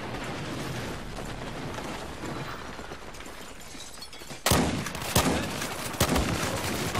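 Gunfire in Battlefield 4 on the Golmud Railway map, scattered sharp shots with several loud close bursts in the second half over a busy battlefield din.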